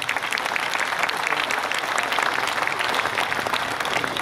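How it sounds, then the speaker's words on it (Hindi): An audience at a kavi sammelan poetry recital breaks into sustained, dense clapping that fills the hall, loud and even throughout without a pause. "एक बार पूरा सदन तालियां बजाकर सूचित करे कि कार्यक्रम प्रारंभ हो"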